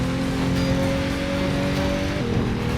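A car drifts around a bend on asphalt in a racing video game set in Seoul, with a steady engine drone that holds a constant pitch and then drops slightly near the end, no voices.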